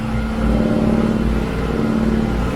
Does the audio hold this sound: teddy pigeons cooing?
no